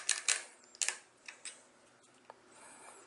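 A Gorilla short ratchet screwdriver turned clockwise to drive out a screw, giving a handful of sharp, close ticking clicks in quick bursts that thin out into sparse single clicks, with no talking.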